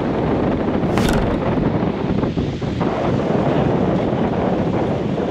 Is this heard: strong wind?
yes